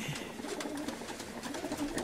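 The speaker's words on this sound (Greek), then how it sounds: "Ωραία περιστέρια." Kozani pigeons, one of them black and owned by a local breeder, coo in soft, repeated low rolls outdoors in February, a steady murmur from several birds with no voices over it.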